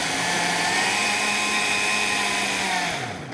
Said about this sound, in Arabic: ودلوقتي هنضرب الكلام ده كله في الخلاط